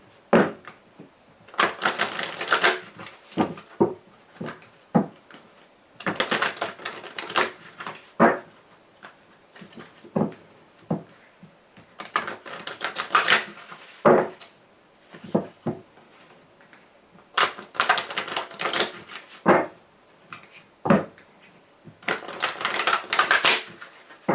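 Mademoiselle Lenormand fortune-telling cards being shuffled in repeated bursts of riffling and flicking, separated by brief pauses, close and fairly loud with no talking.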